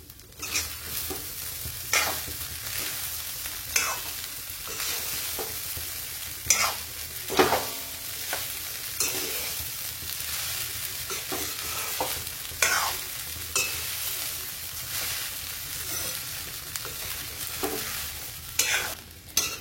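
Sabudana khichdi with fried chips being stirred and tossed in a frying pan, giving a steady run of scraping spoon strokes over a light sizzle, close and fairly loud, with no voices.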